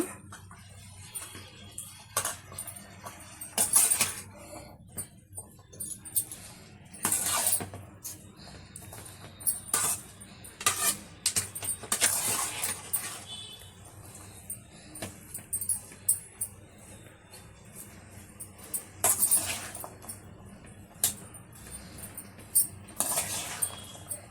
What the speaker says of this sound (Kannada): ಈಗ ನಿಧಾನಕ್ಕೆ ಕೈ ಆಡಿಸ್ಕೊಳ್ಳೋಣ.